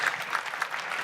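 An audience at a motor show forum gives a brief burst of even clapping that stays steady throughout, at a moderate distance with no voices.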